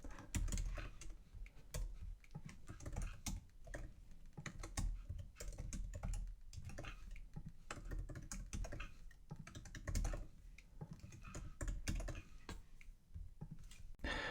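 Steady typing on a computer keyboard while entering calendar text, soft close clacks in irregular quick runs with short pauses, no voices.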